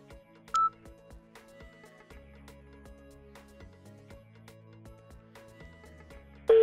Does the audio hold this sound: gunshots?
no